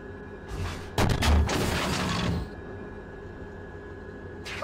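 A Challenger 2 tank main gun fires a sabot round in Steel Beasts Pro, one sharp heavy blast with a rumbling tail of about a second and a half over a quiet background.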